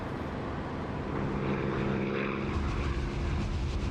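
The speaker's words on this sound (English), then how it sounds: "It's still an engine, and you haven't got all the airy sound that you get with the canopy open." A propeller aircraft engine drones steadily with the cockpit canopy open in a flight simulator game, giving a loud, continuous hum with an airy rushing wash over it.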